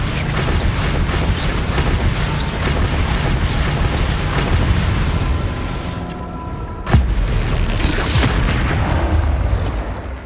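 Confringo fire-blast spells cast in Hogwarts Legacy combat: a continuous rumble of booming magic impacts and mechanical creaks, with one sharp loud blast near the end.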